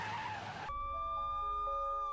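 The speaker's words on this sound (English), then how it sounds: "And then a second car barrels down and plows into me." Car crash in a staged insurance-scam accident recorded on a dash camera: a brief loud broadband impact burst lasting under a second, followed by steady tonal ringing hum inside the car.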